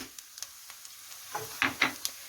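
Onions sizzling in five tablespoons of olive oil in a pan, with soft crackles and a few brief louder spits and stirring scrapes, fairly quiet and close.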